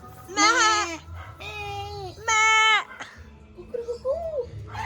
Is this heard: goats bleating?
yes